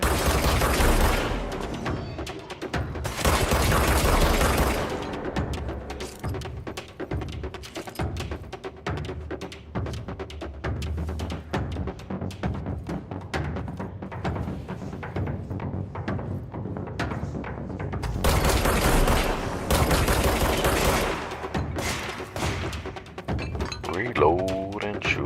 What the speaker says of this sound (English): Reload and shoot him again.